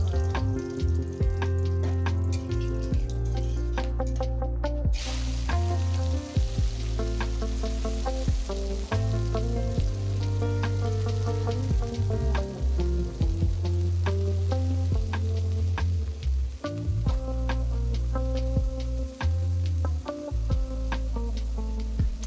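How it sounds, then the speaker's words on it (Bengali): Cashews, raisins and vegetables fry in a pan with a continuous sizzle and scattered sharp crackles. A steady low hum runs beneath them, and the sound is close and even, with no talking. "এগুলারে হালকা লাল লাল করে ভাজবো, তারপরে সবজিগুলারে ভাজবো"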